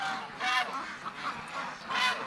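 A duck calls out several times in short, nasal honking quacks, outdoors on an icy morning during chores, fairly close and loud against a steady background.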